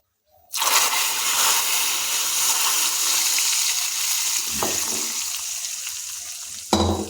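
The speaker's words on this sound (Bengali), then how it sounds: "এখন আমরা এই ফোড়নটাকে কড়াই থেকে তুলে খিচুড়ির ডেচকির মধ্যে" Hot spice tempering poured from a wok into a pot of vegetarian bhog khichuri made with atop rice, bursting into a loud, steady sizzle that holds for several seconds, with a brief clatter near the end.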